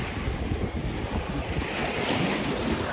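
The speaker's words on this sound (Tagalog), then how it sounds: "Yung dagat talaga guys, may alon talaga, hindi yung para lang lake." Sea waves surge and wash continuously, heavy with wind buffeting the microphone; a broad, roaring surf with no voices, at Rouge National Urban Park.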